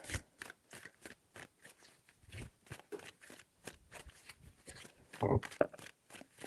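Tarot cards are shuffled in quick, rhythmic riffling bursts, a dense string of crisp papery flicks close to the listener, with a brief louder clatter near the end.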